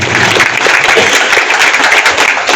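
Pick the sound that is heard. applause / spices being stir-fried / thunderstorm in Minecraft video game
applause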